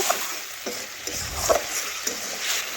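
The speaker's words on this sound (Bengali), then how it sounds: "এখন টমেটো এর সাথে নাড়াচাড়া করে কষে নেব টমেটো গলে যাওয়া পর্যন্ত।" Tomatoes being stirred and fried with spices in a pan, giving a steady soft sizzle with periodic scraping strokes of the spoon, close and moderately loud, with no talking.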